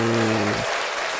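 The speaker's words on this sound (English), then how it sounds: "As usual, the boo applause." Applause on a comedy podcast, a dense clapping wash that starts under a low buzzing or groaning voice, then carries on alone.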